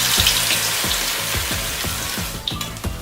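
Vada batter dropped into hot oil in a kadhai, a steady loud sizzle with repeated soft plops as spoonfuls go in, no talk.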